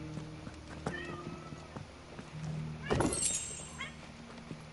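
A cat meows several times at close range amid quiet indoor game ambience, with soft thuds and a louder burst of activity near the middle.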